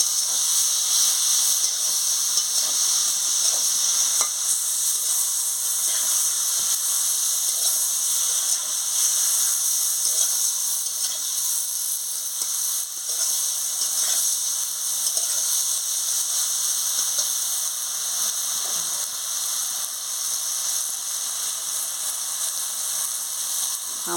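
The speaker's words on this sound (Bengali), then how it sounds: "আনাজটা দিয়ে ভালো করে কষিয়ে নিচ্ছি।" Vegetables for a papaya curry stir-fry in a hot pan, giving a loud, continuous sizzle and hiss that holds steady throughout, with no talking over it.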